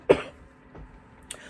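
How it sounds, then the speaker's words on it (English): A single sharp cough close to the microphone, followed by a softer throat sound and a faint click, with no talking. "excuse me, I need to cough"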